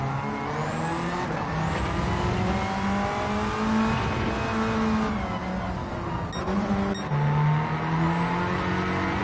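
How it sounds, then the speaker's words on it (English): A low-revving race car with a big turbo, engine droning loud and close as revs rise and fall steadily, with brief gear-change dips and a sustained tonal howl throughout. "Keith's got a really low revving car."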